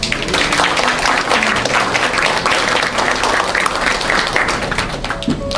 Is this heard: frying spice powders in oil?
no